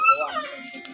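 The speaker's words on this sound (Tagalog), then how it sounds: "Ingay na aso mo, Papa." A dog lets out a short whimpering yip that slides downward in pitch, close and brief.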